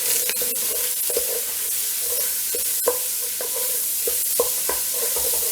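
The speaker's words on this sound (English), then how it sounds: "Let that start to brown, and then we'll come in with our vegetables to add to that." Sausage browning in a pan for Tuscan lentil soup, with a steady crackling sizzle and repeated sharp scrapes and clacks of a utensil breaking up the meat, close and fairly loud.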